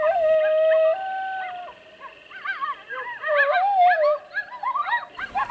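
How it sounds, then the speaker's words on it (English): A young coyote howls in a park on a winter morning, long rising and falling wavering notes breaking into yips and warbles, clear and fairly close in a quiet setting. "this young coyote was basically unafraid of me one morning, and he was out practicing his howls"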